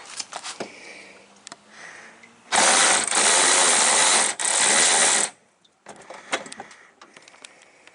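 Ratchet wrench on a long extension turning a bolt during a 2007 Toyota Sequoia radiator replacement, a loud close burst of rapid clicking lasting a few seconds, framed by quieter mechanical handling noises.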